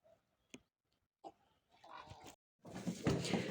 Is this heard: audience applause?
no